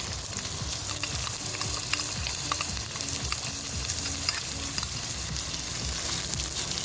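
Blended tomato and spice gravy with ginger and garlic frying in oil for a chicken kofta curry, a steady close sizzle and crackle with light stirring throughout and no talking.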